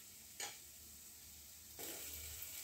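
Spice masala frying in a pan for a raw banana recipe, a soft steady sizzle with two brief louder hissing bursts, faint and close in a quiet kitchen, no voices.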